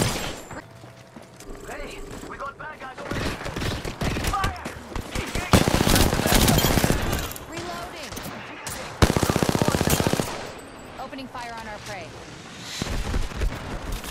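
Rapid automatic gunfire and mechanical weapon clatter in the Apex Legends video game, loud bursts coming and going in bunches with someone talking over the action.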